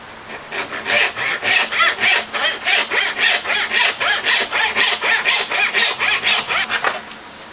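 A hand saw cutting through wood in steady back-and-forth strokes, about twenty rhythmic rasping passes, close and loud with no talk.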